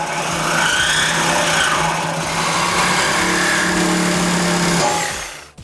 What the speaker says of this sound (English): you can grab yourself a Sawzall or your cutting apparatus of choice